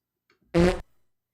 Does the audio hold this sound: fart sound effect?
yes